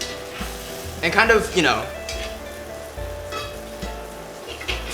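Butter melting and sizzling in a pan before steak goes in, a soft steady sizzle with occasional clinks of cookware, someone talking briefly over it near the start.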